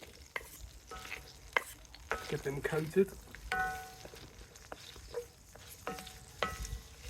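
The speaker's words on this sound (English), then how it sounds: "So our oil's sizzling away. Going with our potatoes." Oil sizzles and crackles steadily while potatoes are stirred in a pan, with scraping sounds and a voice speaking briefly over the frying.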